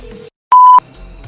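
A single electronic phone beep sounds in the GTA 5 video game during a driving scene, one clean steady tone lasting about a quarter second between quieter background sounds.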